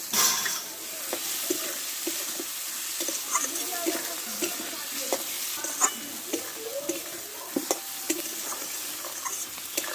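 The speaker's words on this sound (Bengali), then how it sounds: "দেখো মশলার সঙ্গে ভালোভাবে আলুটা আমি কষে নিয়েছি" Fried potatoes are stirred through spices in hot oil, with a soft sizzle under irregular scrapes and taps of a spoon against the pan, close by and moderately loud.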